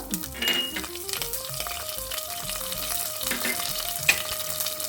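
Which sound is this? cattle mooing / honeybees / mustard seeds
mustard seeds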